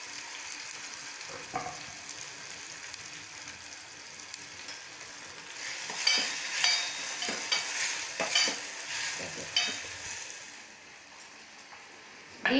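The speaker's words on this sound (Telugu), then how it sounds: "కరివేపాకు, ఉల్లిపాయలు, టమాటాలు వేసేసుకుంటున్నాను" Curry leaves, onions and tomatoes frying in a pan for a potato kurma, with a steady sizzle and intermittent scraping of the spoon that grows busier partway through; close and continuous, no talking.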